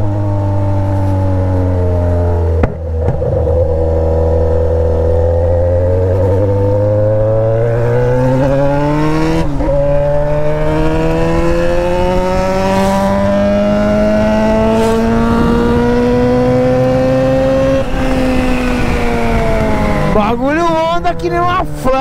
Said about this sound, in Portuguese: É o cara da moto.